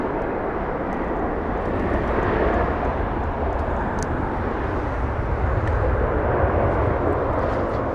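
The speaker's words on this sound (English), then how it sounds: "767 Delta Airlines coming in from Atlanta" A Delta Air Lines Boeing 767 arriving from Atlanta at LAX passes with a steady, heavy engine roar that swells slightly midway and stays loud throughout, no voices over it.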